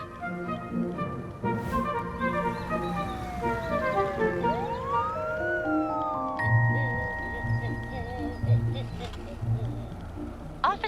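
A police siren wails and sweeps up and down, then switches to a steady tone, loud over traffic noise with voices and rhythmic background sounds.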